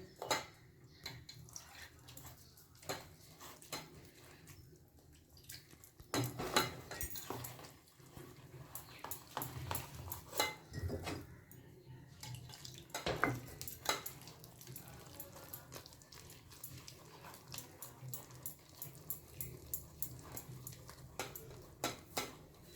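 Pumpkin flower fry batter being mixed by hand with a little water and turmeric in a bowl, giving soft wet squelching and scraping sounds with occasional clinks, steady and close with no talking.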